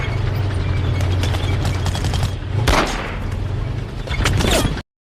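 Battle scene from Saving Private Ryan with dense, continuous gunfire, a rolling barrage of loud cracks and bursts and a heavy rumble underneath, a few sharper blasts standing out before it cuts off abruptly.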